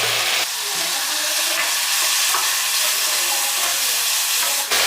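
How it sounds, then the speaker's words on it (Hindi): Tomatoes sizzle and fry steadily in a pan while being stirred, a loud continuous hiss up close, with no voices. "अब इसमें हम टमाटर को अच्छी तरह पकने देंगे"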